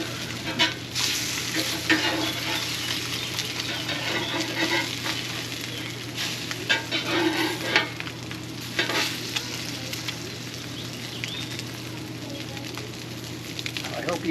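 Eggs frying crispy over easy in a pan inside a travel trailer RV, a steady crackling sizzle running throughout with brief louder spatters, heard close up.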